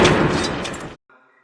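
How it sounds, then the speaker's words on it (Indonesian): A single sniper rifle gunshot cracks out sharply and close, its loud blast decaying over about a second before cutting off to a faint, brief ringing tail. "tembakan jitu Mayer Koenig mengenai Kolikov"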